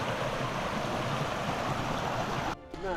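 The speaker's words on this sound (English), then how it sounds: "Right on the creek." A creek flowing beside a campsite shelter on the Appalachian Trail in Michaux State Forest, a steady close rushing of water that cuts off abruptly near the end.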